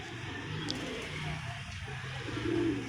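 Pigeon cooing from a flying pigeon in a loft, with low murmuring coos over a constant hum of background noise and a faint distant car, brief and moderately quiet.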